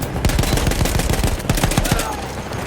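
A mounted machine gun in Battlefield 1 fires a loud, close, rapid stream of shots with an even rattling rhythm over a constant battlefield roar.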